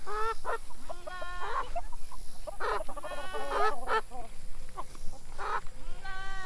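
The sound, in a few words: chickens clucking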